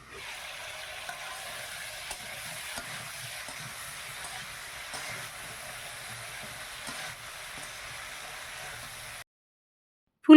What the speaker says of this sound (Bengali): মাছ ভাজার তেলে ফুলকপি আলুটা ভালো করে ভেজে নেই।